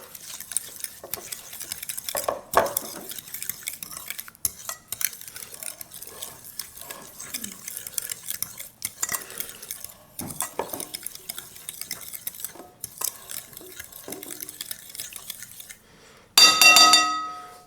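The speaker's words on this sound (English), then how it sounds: "I'm going to whisk this together" Keto brownie batter being whisked in a bowl, quick rhythmic scraping and tapping strokes that run steadily at moderate volume, with a louder clattering burst near the end.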